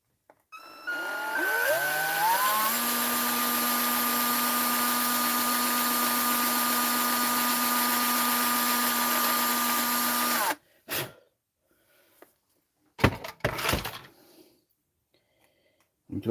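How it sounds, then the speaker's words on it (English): A power drill bores through the center of a carburetor, starting up with rising pitch and then holding a loud, steady whine for about ten seconds before it stops, followed by a few short clatters and handling noises. "I'm going to drill through the center of it."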